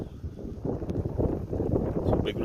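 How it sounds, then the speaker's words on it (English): Wind blowing outdoors on a December night, a low, gusty rumble buffeting the microphone steadily for a couple of seconds with no voices. "It's windy, really."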